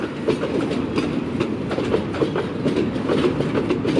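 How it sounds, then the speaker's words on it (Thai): A freight train rolls past at Bang Sue with its final wagons, a tank car marked for 3,500 litres of crude oil and a braked bogie baggage car, giving a steady close rumble of wheels with faint clickety-clack throughout. "ตู้สุดท้ายแล้ว พร้อมบพห 50021 รถโบกี้สัมภาระมีเครื่องห้ามล้อ"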